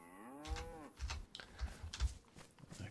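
A cow in the DayZ video game moos in a drawn-out, wavering low call, heard fairly faint and distant over soft thumping game ambience.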